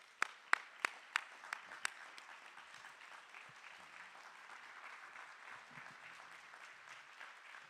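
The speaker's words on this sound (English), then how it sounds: "please stand up and give a big round of applause for our Congresswoman Frederica Wilson" Summit audience applauds Congresswoman Frederica Wilson at a middle class summit, opening with several sharp, separate claps before settling into faint, distant, even clapping.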